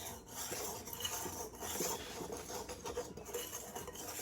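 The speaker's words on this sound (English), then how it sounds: "we're going to whisk these together until they're well blended" A whisk scrapes and rattles steadily through sugar, flour and spice in a mixing bowl, a quiet close scratching texture with no talk.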